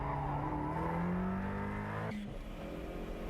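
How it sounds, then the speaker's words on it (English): A tuned Toyota Starlet Turbo revs hard on a race track time trial, its engine note climbing steadily in pitch before a sharp gear shift drops it, loud and close with no talking. "He's revving higher than Ono when shifting."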